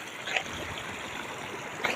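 Floodwater rushes under a washed-out bridge as a steady, faint, hissing wash of moving water with no voices.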